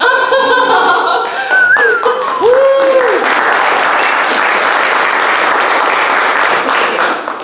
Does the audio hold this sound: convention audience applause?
yes